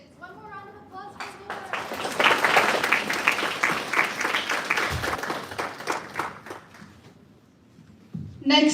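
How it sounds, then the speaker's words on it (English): A student project presentation night audience gives a round of applause that swells to a dense patter and then tapers off, with voices talking before and after it. "One more round of applause"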